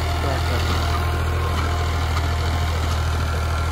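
Swaraj 260 tractor engine running steadily at idle, a continuous low diesel throb with mechanical rattle, close and loud throughout with no talk.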